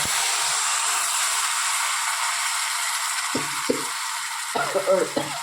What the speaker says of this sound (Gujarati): મસાલો બળી ના જાય એટલા માટે સાથે પાણી પણ નાખી દઈએ.